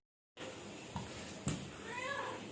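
A cat meows once, briefly and softly, near the end, over steady indoor background noise with a couple of light knocks before it.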